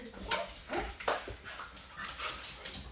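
An overexcited house dog that tends to pee on the floor gives a run of short yips and whimpers in quick bursts, close by and fairly loud over a little room noise.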